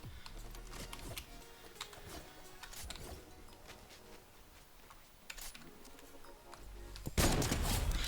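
In the video game Fortnite, faint clicks and small taps come before a sudden loud sniper rifle shot near the end.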